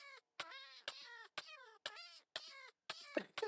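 Repeated meows from the shoes worn by a player character in modded Minecraft, seven short game meows in an even rhythm, close and clear, ending with a louder noisy burst.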